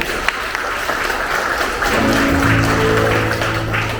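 A church congregation at a Sunday service applauds together, a steady wash of many hands clapping across the whole stretch, with a sustained tone entering partway through.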